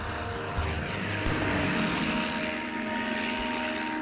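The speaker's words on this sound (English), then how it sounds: "This one's only big enough to launch a scout plane with a catapult." Scout plane engine droning steadily on an early American aircraft carrier deck, a continuous loud propeller roar without clear breaks, with no voices over it.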